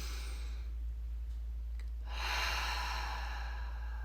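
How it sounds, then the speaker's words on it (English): Deep, slow breathing during a meditation exercise: a quiet stretch followed by a long, airy inhale or exhale that swells and lingers close to the microphone over a steady low hum. "just breathing really deep and getting nice and slow and just expanding your rib cage"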